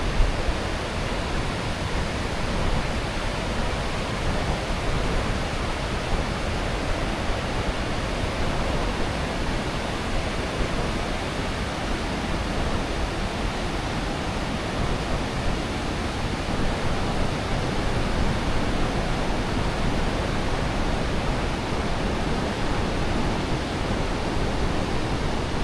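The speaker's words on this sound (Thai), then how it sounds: "ได้ยินเสียงน้ำตกแห้งๆเนาะ" Steady, dense roar of rushing water from the Khone Phapheng falls, a broad unbroken wash that holds a constant level throughout with no voices.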